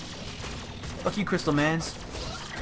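Machine gun fire in the video game Dungeon of the Endless forms a dense, continuous rattle throughout, with someone shouting loudly over it.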